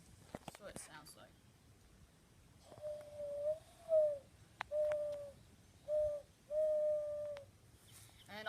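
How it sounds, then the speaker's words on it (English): A mourning dove's cooing call: a series of about five soft, hollow, steady-pitched coos in a slow rhythm, each lasting under a second, fairly faint against a quiet background. "I'll put a clip in for what an actual mourning dove sounds like."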